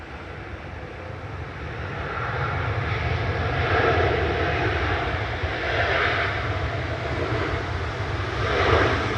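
A Qatar Airways airliner roars past at Manchester Airport, its loud, steady engine noise swelling and fading in waves while it stays close and dominant throughout.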